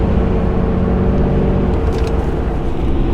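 A 2018 RAM 2500 Cummins diesel pickup towing 10,000 pounds at highway speed drones in a loud, steady rumble, its engine tone shifting partway through as it changes up a gear.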